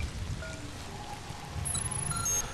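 Freezing cold rain in the survival horror game Zombi falls as a soft continuous patter on surfaces, fairly quiet and even, with faint high electronic tones near the end.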